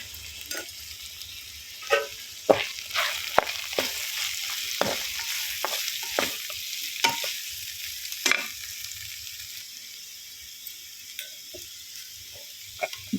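Sliced ivy gourd (dondakaya) sizzles and fries in a pan with chili powder, a steady crackle broken by clicks and scrapes from stirring, with no talking.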